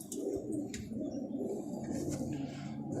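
Pigeons coo in a loft, with several low, throaty coos overlapping close by, plus a few faint higher chirps and rustles.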